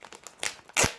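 A plastic parcel is ripped open by hand: quick crinkling rustles, then a louder sharp tearing burst near the end, close and brief.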